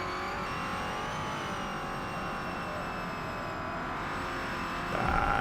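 Next Gen NASCAR car in Forza Motorsport drifting at Mount Panorama, a sustained close engine roar with a steady held pitch, rising slightly into a louder scrabbling burst at the end.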